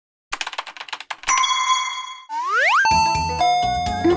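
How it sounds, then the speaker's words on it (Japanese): An intercom doorbell chime in a comic delivery skit: a run of quick, sharp taps, then loud, close, bright ringing tones that sweep and step downward. "なんやこの音、インターホン。"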